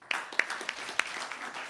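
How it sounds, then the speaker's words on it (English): Sparse clapping from a conference audience, a few distinct claps standing out over a soft wash of hands, brief and moderately quiet. "let's get a round of applause"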